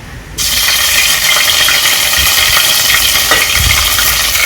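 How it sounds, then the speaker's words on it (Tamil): Loud, steady sizzling of ginger paste dropped into hot oil, starting abruptly and continuing as a dense hiss with faint stirring. "இப்போ வந்து எண்ணெய் காய்ஞ்ச உடனே இஞ்சி பேஸ்ட் போடும்"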